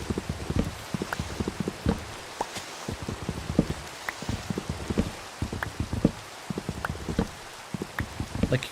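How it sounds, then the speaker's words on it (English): Rain in a modded Minecraft game, dense patter of drops striking surfaces in a continuous irregular crackle, moderately close and steady throughout without talk. "isn't it cool that someone can simulate different, like the different sounds of rain"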